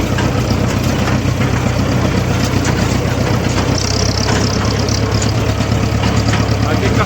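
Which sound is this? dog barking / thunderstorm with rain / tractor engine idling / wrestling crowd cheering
tractor engine idling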